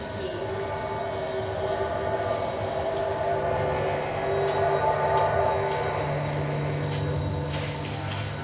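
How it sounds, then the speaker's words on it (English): A train rolls along tracks from Luton Station in a book trailer, giving a steady, close rumble with metallic wheel hum and faint squealing tones, swelling slightly midway and continuing unbroken. "By train, from Luton Station, the track ran straight for several miles with straggly town on one side."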